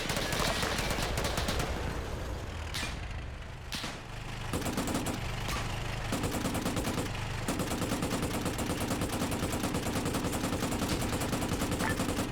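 Video game gunfire, with a rapid stream of close, loud shots crackling almost continuously and a short lull midway before the firing resumes.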